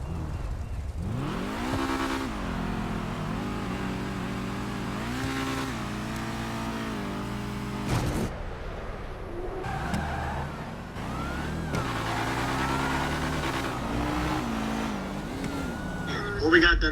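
Cars drag race in the GTA 5 video game, with engines revving and droning through gear changes over a steady roar while people talk throughout.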